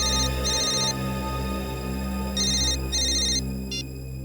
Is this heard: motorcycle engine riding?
no